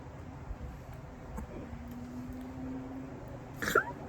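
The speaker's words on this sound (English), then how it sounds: "That last hiccup, yep, made some residual go down the pipe wrong." A person hiccups after tasting Primo Army hot sauce, with one short, sharp hiccup near the end against a faint, quiet indoor background.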